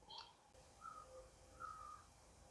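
Crows caw faintly in the distance at an outdoor fibre festival in Manitoba, a few drawn-out calls spaced across the moment over a soft background murmur.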